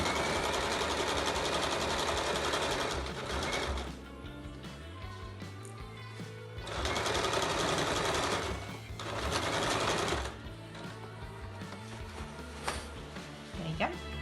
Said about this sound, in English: Here I'm sewing the pocket onto the front of the top.